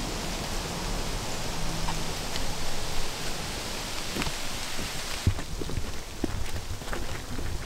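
Steady rain patters on the forest canopy in a wooded preserve in Saunderstown, Rhode Island, making a dense, even hiss with occasional louder drips and rustles close by.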